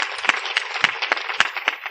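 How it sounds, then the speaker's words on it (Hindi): An audience at a spiritual discourse claps in a quick, steady rhythm, each sharp clap sounding close and crisp in a brief burst. "जोर की ताली मार दो।"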